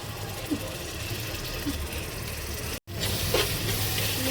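Onions frying with ginger-garlic paste for a farm chicken curry, a steady close sizzle and hiss with a brief dropout partway through, under a voice talking.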